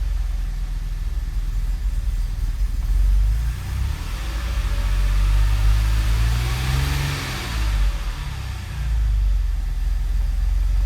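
A car engine running as it warms up, with a loud, steady low rumble and a slow rise and fall in pitch as the revs climb and settle, close by and with no talk.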